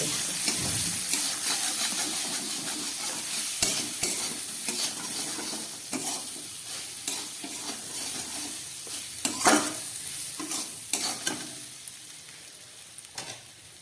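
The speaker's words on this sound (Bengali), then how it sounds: "দিয়ে দিচ্ছি কিছুটা গ্রেট করা আদা, হাফ চামচ মতো দিয়ে এবার খুব ভালো করে এটাকে আমি কষিয়ে নেব" Greens with turmeric and half a spoon of grated ginger sautéing in a pan, a steady close sizzle broken by repeated scrapes and clatters of stirring, with no voices.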